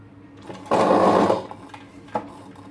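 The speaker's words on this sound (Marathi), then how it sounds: "आपल्याला दोन्ही साईडने शिलाई मारावी लागणार आहे" A sewing machine stitching a wide lace trim onto a boat-neck blouse neckline runs in one loud, close burst of under a second, followed by quiet handling clicks.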